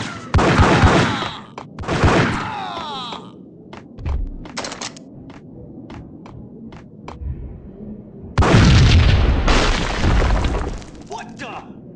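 Bursts of gunfire and booming shots from the video game Max Payne, a loud volley at the start, scattered sharp single shots through the middle, then another heavy burst near the end, mixed with game voices.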